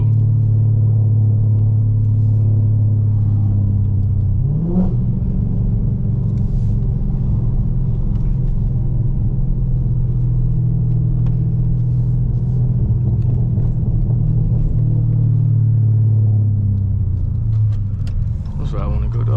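A car fitted with JBA catless midpipes and an MBRP race exhaust rumbles loudly from inside the cabin, a deep droning exhaust note with a rising rev swell near the start, then steady cruising drone.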